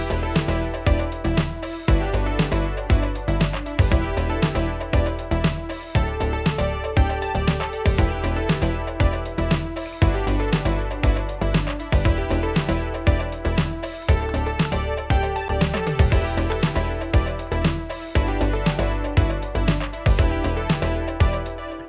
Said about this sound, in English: an 8-bar loop or main stack that I created yesterday for the Let's Make Synthwave show